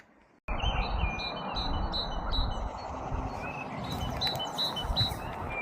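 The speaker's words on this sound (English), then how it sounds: "It's really nice to hear the birds singing very far away." Repeated high chirping birdsong rises over a steady wind-like outdoor rumble at Brämhult graveyard and church in Sweden, the calls thin and distant rather than close.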